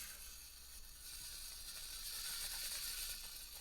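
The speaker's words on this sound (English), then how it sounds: "Getting a little slipping action." A Buggy 30 RC micro crawler strains up a steep section, its tiny gears and drivetrain whirring and ratcheting steadily as the wheels slip, a continuous faint mechanical buzz throughout.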